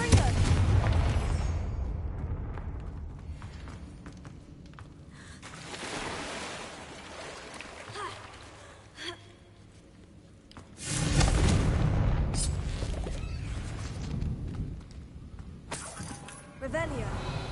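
Confringo blasting spells going off in the video game Hogwarts Legacy: several loud, booming bursts with crackling debris, the biggest arriving near the middle and end, over low rumbling game ambience and occasional voice.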